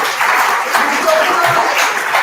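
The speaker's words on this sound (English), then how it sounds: "Please join me in extending a warm round of applause to our esteemed guests and dignitaries" An audience at an international academic conference session applauds guests and dignitaries with a steady, dense wash of clapping that holds at an even, fairly loud level throughout.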